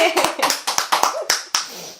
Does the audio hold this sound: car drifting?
no